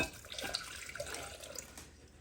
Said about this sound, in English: we're gonna go ahead and add our 1 cup of water to our pineapple juice and pour it in our Jell-O